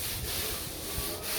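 Light hand sanding of undercoated drywall, a steady close rasping rub with slight back-and-forth surges, continuous and alone.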